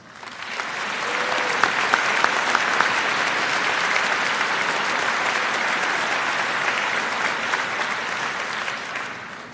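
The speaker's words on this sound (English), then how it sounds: "present the valedictorian medallion to Bob, please join me in recognizing him with a round of applause." A high school commencement audience gives sustained, even applause that swells quickly, holds steady for several seconds and then tapers off, filling a large hall.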